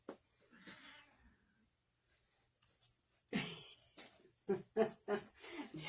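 An irritated cat meows and growls after having its belly squeezed, giving a faint low grumble first, then a run of loud, close, drawn-out complaining yowls in quick succession.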